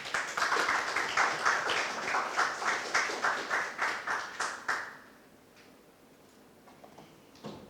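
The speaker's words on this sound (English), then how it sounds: "I think that certainly deserves a bigger round of applause." Audience applause at a media launch for the Grenada Rugby Union's first Rugby Sevens event, a steady, even patter of many hands clapping that fades out after about five seconds, leaving quiet room tone.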